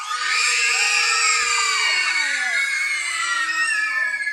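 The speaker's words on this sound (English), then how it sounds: "Everybody scream." Children scream together on cue at a storytime reading, a loud sustained chorus of high, overlapping shrieks that holds steady for several seconds with no talking.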